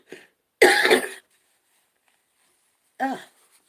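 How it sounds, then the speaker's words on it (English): A single harsh, close cough burst, followed after a pause by a short throat-clearing sound, with silence between. "had to cough that up."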